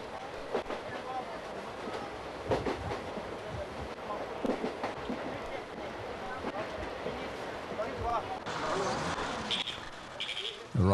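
Rumbling, rattling interior of a long-distance passenger train heading to South India, a steady clatter with scattered knocks and squeals throughout, growing slightly louder near the end.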